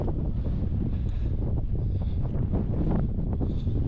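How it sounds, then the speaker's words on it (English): Strong wind buffets the microphone on a solo hike along the Kenai Peninsula, a steady loud roar with gusting rumble and no pauses throughout. "the wind's still whipping"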